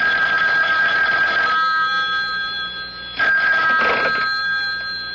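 A telephone rings in a radio drama, an electric bell trilling loudly and close in two long bursts with a short pause between, no voices over it.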